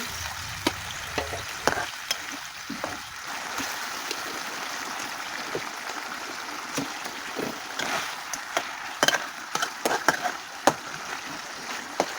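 Fish cooking in a pan give a steady, low sizzle and bubbling throughout, with scattered sharp clicks and taps from utensils, fairly close and unaccompanied by talk.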